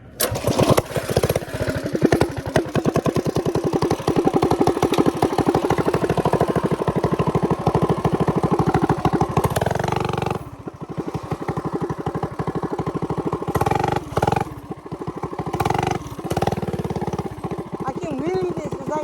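Mini bike fitted with a 50-tooth rear sprocket riding along a street, its small engine buzzing loud and close with a steady rasp that drops off briefly midway, then revs again, while a person talks over it.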